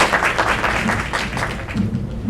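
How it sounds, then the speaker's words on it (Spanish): Brief, dense clapping from a seated audience honouring a doctor after a talk on heart failure, a short burst of steady applause. "Un aplauso, por favor, al doctor."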